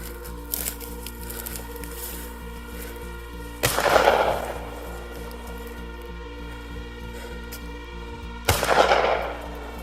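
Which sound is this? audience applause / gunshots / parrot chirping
gunshots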